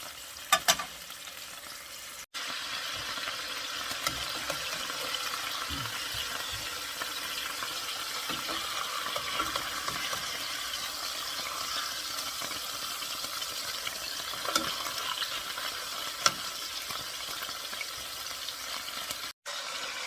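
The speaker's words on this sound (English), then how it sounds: "Okay, so all our beef are seared." Beef shank sears in a pan, a steady close sizzle with fat crackling for the whole stretch, marked by a couple of sharp knocks at the start and occasional spatters and clicks, no voices.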